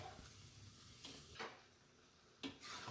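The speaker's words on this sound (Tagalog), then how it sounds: "yung munggo lang muna ang inilagay natin para magisa siya ng gusto bago natin ilagay yung bawsa o kaya sabaw" Mung beans are sautéed in a pot for Ilocano-style monggo con pata. A faint, continuous sizzle runs throughout, broken by a few soft stirring scrapes. There is no talk.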